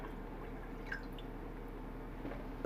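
Brandy pours steadily into a homemade apple pie moonshine mix, a soft continuous liquid trickle heard close and faint with no talking.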